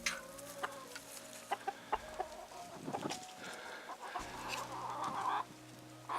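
Chickens cluck softly in a hen house under big trees on a farm in spring, with scattered short clucks and calls at a moderate distance and no talk.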